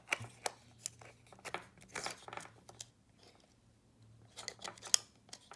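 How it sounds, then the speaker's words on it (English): A power adapter slides into a digital camera's battery compartment, giving close, brief plastic scrapes and clicks in several short bursts over a steady low hum, with quieter handling noise between. "then we will slide the power adapter inside"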